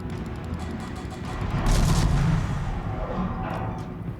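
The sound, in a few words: naval gunfire in World of Warships video game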